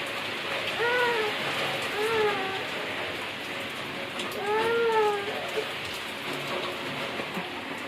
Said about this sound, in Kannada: ಇವಾಗ ಮಳೆ ಬರಾಕತ್ತೈತಿ ನೋಡಿರಿ